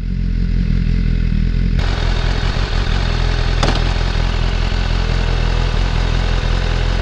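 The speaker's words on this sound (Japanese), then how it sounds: "やっぱりね、純正でも外車ですね、排気音はすごいいい音しますね。" BMW S1000RR sport bike with stock exhaust idling close by, a steady deep engine drone running throughout with a brief clatter and a sharp click partway through, no talking.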